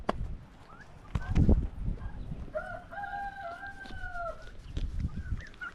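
A rooster crows clearly in the middle, with chickens clucking and scuffling nearby before and after, fairly close but not loud.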